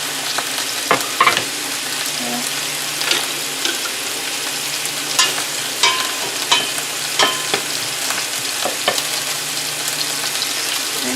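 Roughly chopped garlic cloves sizzle in a few tablespoons of olive oil in a frying pan, a steady close crackle with intermittent stirring scrapes.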